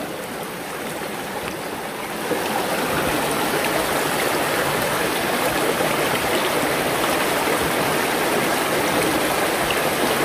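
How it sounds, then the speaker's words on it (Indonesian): A stream of cold, clear water trickles and babbles steadily at close range, a continuous bright rushing wash that swells slightly after the first couple of seconds, with no voices. "Adem ya kalau dengar suara gemericik air ya"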